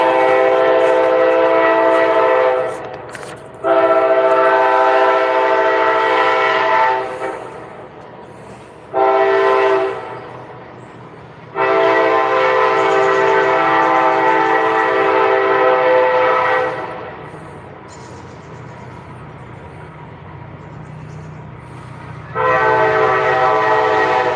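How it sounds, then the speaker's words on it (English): A loud train rumbles past with long, blaring horn blasts repeating over about twenty seconds, each sustained and harmonic, separated by brief gaps. "Sorry about the train"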